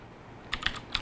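A Leopold FC750R tenkeyless mechanical keyboard with Cherry MX Blue switches is typed on up close, giving three or four sharp, crisp clicks in quick succession over a quiet background.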